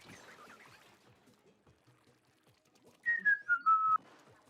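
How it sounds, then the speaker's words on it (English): A short, faint whistled tune of a few descending notes rises briefly out of a quiet background. "I heard the whistling."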